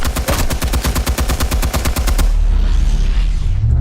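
Rapid automatic AK rifle fire in Batman: The Telltale Series, a loud, steady burst of evenly spaced shots that stops abruptly and gives way to a lower rumbling hiss.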